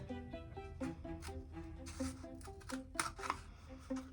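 Several crisp, quick snips of scissors cutting the bottom of a small container, spaced irregularly, close up, over soft background music.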